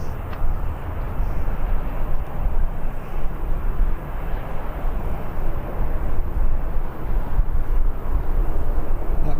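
An ETF Airways jet flying for Jet2, arriving from Naples at Birmingham Airport, produces a steady, broad engine roar that holds for the whole stretch at moderate distance.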